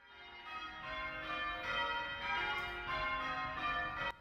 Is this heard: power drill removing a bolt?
no